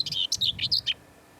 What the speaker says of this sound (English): This little bird is singing above Caibur Bay near Cardigan on the North Pembrokeshire coast.